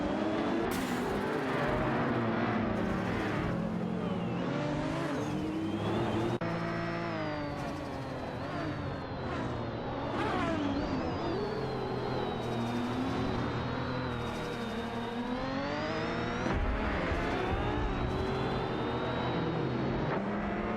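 Race cars in a racing video game scream around the track, several engines revving and shifting pitch as they pass one after another, loud and continuous with no voices.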